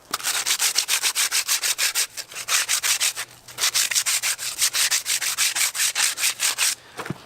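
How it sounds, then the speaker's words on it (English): Sandpaper rubbed by hand over a pipe for an aquaponics filter, in quick, even back-and-forth strokes. Dozens of close, scratchy strokes come in steady bursts with a brief pause partway through. "Now I'm going to sand both the outside, and I'm going to try as much as I can to do inside of each of these."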